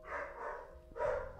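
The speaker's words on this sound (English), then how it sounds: "That is just the doorbell and my dog at the same time." A dog barks while a doorbell rings at the same moment, the sound coming from the room behind a gaming session, fairly loud and running for about a second and a half.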